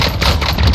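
Automatic gunfire in Call of Duty Modern Warfare Warzone, a dense, loud, continuous burst of rapid shots at close range, very brief, with no voices over it.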